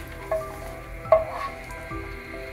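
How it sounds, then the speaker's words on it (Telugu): Pumpkin seeds frying in hot ghee in a pan, a gentle crackling sizzle with a few light clinks of a stirring spoon, close and fairly quiet, with no voices. "ఇప్పుడు ఈ గుమ్మడి గింజలు వేసి వేయించుకున్నాం"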